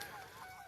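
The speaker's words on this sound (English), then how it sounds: "Sounds like Canada geese over there." Canada geese honk faintly in the distance near a field and conservation area on Central Kentucky farmland, a brief, soft honking call over quiet outdoor background.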